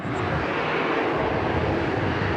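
A Boeing 737 airliner on the runway at Sydney Airport gives a loud, steady jet engine roar, a broad continuous rumble heard from a distance with no talk over it.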